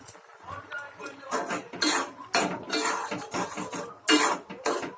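A spoon scrapes and clanks against a pan while carrot halwa with cashews and raisins is stirred, producing steady, close metallic scraping strokes in a repeating rhythm.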